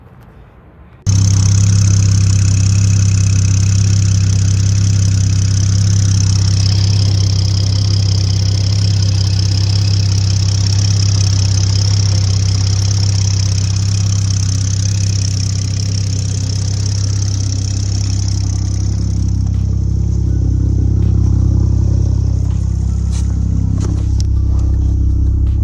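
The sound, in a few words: Toyota MK5 Supra engine running with big turbo kit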